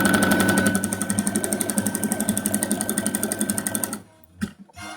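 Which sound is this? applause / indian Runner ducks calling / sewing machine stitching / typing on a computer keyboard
sewing machine stitching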